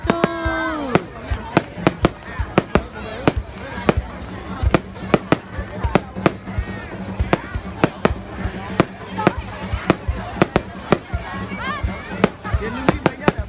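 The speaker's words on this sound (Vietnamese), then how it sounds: "chương trình bắn pháo hoa của thị xã Quế Võ chào mừng xuân Giáp Thìn năm 2024" Lunar New Year 2024 fireworks display in Quế Võ town, Vietnam: a rapid series of loud sharp bangs and cracks echoing outdoors, with a brief rising whistle at the start and crowd noise underneath.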